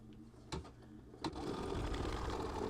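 A sewing machine tacks down two sides of a quilted mug rug. After a couple of soft clunks, it settles into a quiet, steady, rapid whir that runs alone.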